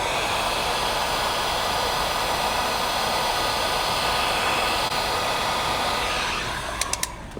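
Heat gun blowing hot air onto vinyl wrap during a rear door skin install on a 2003-2009 Toyota 4Runner; a steady, loud broadband whoosh that runs nearly the whole time, then tapers off with a few small clicks at the end.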